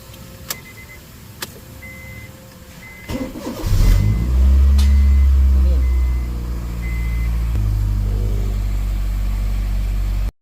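A car with a freshly replaced ECT sensor cranks and fires up, settling into a loud steady idle with a rise in revs. A faint electronic chime precedes the start, and no voices are heard.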